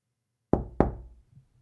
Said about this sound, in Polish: W tej samej chwili rozległo się pukanie.